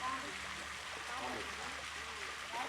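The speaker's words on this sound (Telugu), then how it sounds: "కోనేరులో నీళ్లు పోతున్నాయి." Water pouring into a temple tank at the Nalla Gangamma temple in Rayachoti, a steady broadband rush close by, with faint voices mixed in.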